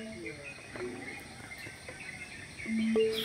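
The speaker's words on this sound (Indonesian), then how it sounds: "Banyak suara-suara burung berkicau di pagi hari." Birds chirping at dawn in countryside beside rice paddies, thin scattered calls and short tweets over a quiet hiss of insects, faint and distant.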